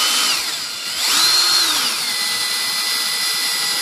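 A power screwdriver drives screws into soft wood while building cable management inside an Airbus A380 wing box model, the motor whining up and down in one close, loud burst with no talk.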